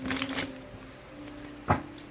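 Tarot cards are shuffled in two quick riffling bursts close up, with a soft slap of the deck near the end, in a quiet room.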